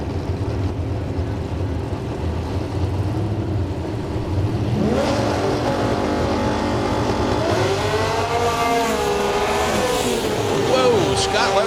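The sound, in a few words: drag race car launching down the track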